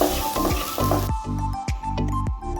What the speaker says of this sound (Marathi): इथं हे वाटण छान असं तेलामध्ये परतून घ्यायचं आहे